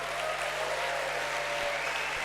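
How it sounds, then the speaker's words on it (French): Warm, continuous audience applause at the Cannes film festival awards ceremony, an even wash of clapping from a large hall with a low steady hum beneath it. "Merci donc de les applaudir chaleureusement."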